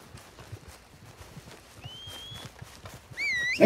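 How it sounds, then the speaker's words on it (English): A horse in a multiplayer video game neighs after being called, a couple of bright whinny calls near the end with a loud thump of arrival, over faint scattered background game sounds. "Alright. Call my horse."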